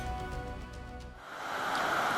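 A waterfall in Nepal gives a faint, steady rush of broadband water noise, growing fuller toward the end, with a low hum underneath at the start and no voices.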